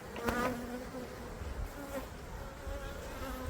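Honeybees hum in a dense, steady drone around an apiary hive full of brood frames, heard close up and without any talk.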